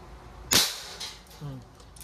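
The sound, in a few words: Crosman MagFire Ultra .177 break barrel air rifle firing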